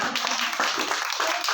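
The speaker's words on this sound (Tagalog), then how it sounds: "Pwede na po kayo magsi-palakpak ulit." A prayer group claps again together at a year-end gathering, a dense, steady patter of many hands lasting the whole moment without voices.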